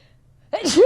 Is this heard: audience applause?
no